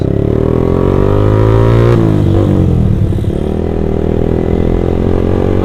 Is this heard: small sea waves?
no